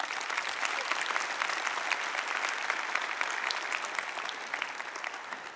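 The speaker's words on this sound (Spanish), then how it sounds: "Aplauda al Señor." A church congregation claps in praise during a Spanish-language sermon, a dense steady wash of many hands applauding at moderate distance, continuous throughout without a clear break.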